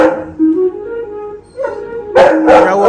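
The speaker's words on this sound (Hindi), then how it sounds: "जैसे ही ये गाना प्ले होता है ये भौंकना शुरू हो जाता है।" A dog barks, yips and howls at a song playing inside an MG Astor car, loud and close, with tonal whimpering howls followed by a couple of sharp barks.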